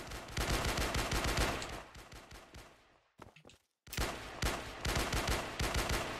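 Gunfire in the Roblox survival game Alone, dense rapid shots in loud bursts, a brief break with scattered softer sounds, then another sustained volley.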